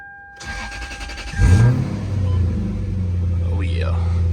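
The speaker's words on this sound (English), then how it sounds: "Let's get a little cold start on video." Car with a 3UZ V8 engine cold-starting: a cranking burst, then a deep, loud idle that settles into a steady rumble, close by.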